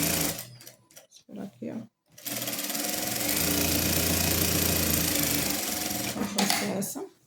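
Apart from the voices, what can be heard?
sewing machine stitching fabric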